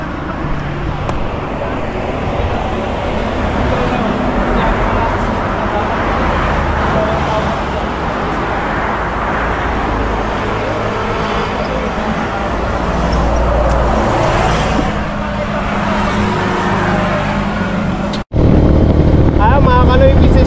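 Steady engine drone and rushing road and wind noise from a moving motorcycle, loud and continuous, with muffled voices underneath.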